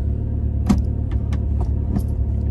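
An aftermarket WK Motorsport short shifter in a Mitsubishi Evo with a 5-speed gearbox gives several sharp, notchy clicks and clunks as it moves into gear over a low steady engine idle, recorded inside the cabin.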